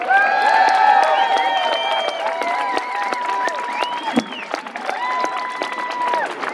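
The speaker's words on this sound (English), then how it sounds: "Please clap your hands for Sean Jeffrey." An audience at a cold outdoor event claps and cheers for a speaker being introduced. Dense applause sounds throughout, with whoops and whistles on top, strongest at the start.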